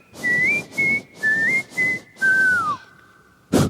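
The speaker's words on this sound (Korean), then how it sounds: "휘파람이 저의 개인기입니다." A person whistles a clear, pitch-accurate tune in about five short sustained phrases, some with gliding notes, the last sliding downward, followed by a brief burst of noise at the end.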